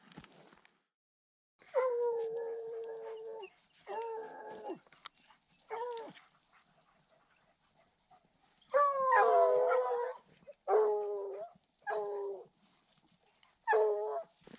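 Several dogs howl and bark in drawn-out, wavering bursts, starting and stopping in turns against otherwise quiet surroundings at a backcountry mountain campsite.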